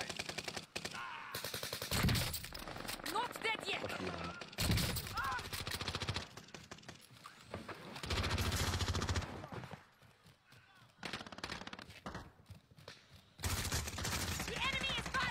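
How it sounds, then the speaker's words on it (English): Enemy gunfire in the video game Warzone Rebirth, loud rapid automatic bursts and scattered shots rattling on and off throughout, with voices talking over the shooting. "The enemy is firing at me!"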